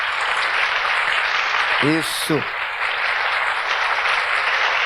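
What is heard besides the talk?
congregation applause in church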